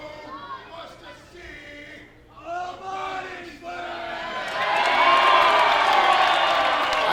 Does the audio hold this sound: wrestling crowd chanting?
yes